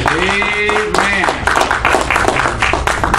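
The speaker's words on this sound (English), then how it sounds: "go ahead and give God a hand clap of praise" A church congregation claps in praise, with a broad, sustained wash of many hands clapping together under loud voices and a sung or spoken line from the front.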